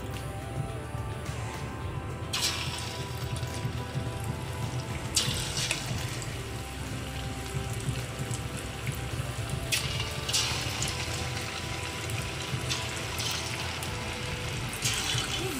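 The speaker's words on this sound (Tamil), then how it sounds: "இப்போ நம்ம 15 நிமிஷம் ஊற வச்ச சிக்கனை பொரித்து எடுக்க போகிறோம்." Marinated chicken frying in hot oil in a wok gives a steady, dense sizzle and crackle that carries on throughout, with a few brighter hissing surges. No one speaks.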